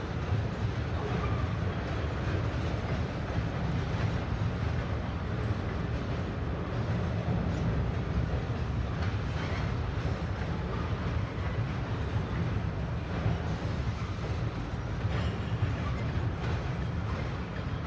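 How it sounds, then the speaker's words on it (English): A passenger train rolls past at close range during morning railfanning, a steady loud low rumble and rail roar lasting the whole stretch with no break. "Is that a passenger train?"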